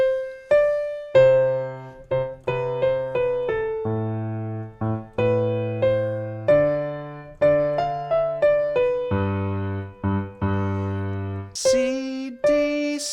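The intro melody on piano, a high single-note line in the right hand over sustained low notes. The playing is clear and close, at a steady relaxed pace, and no one talks over it.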